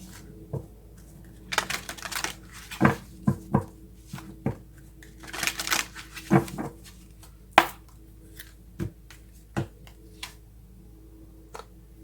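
Tarot cards are shuffled and handled in short, irregular bursts of soft riffling and tapping against a quiet room, close and fairly faint.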